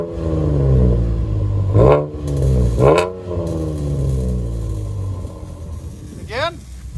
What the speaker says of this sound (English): Those Flowmaster Outlaws sound really good on these.